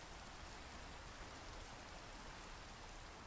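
Steady, faint rain hisses without a break in the Minecraft world of a modded survival playthrough, an even wash of noise with no distinct drops or other sounds.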